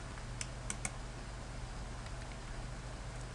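A few faint, scattered clicks from typing on a computer keyboard while filling in a field, sitting over a steady background hiss.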